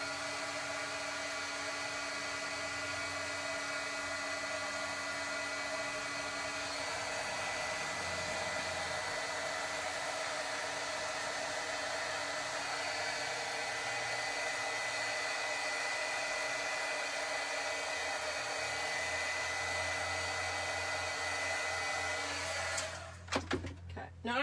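A heat gun blows a steady, loud whirring hiss for more than twenty seconds while it melts embossing powder on a card, then switches off abruptly near the end.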